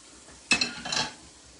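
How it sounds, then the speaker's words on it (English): Onions and peppers sautéing in olive oil: a quiet sizzle under one brief close stirring scrape, with a second softer stir just after. "I have some onions and peppers in olive oil. I just saute it a little just to build a little flavor."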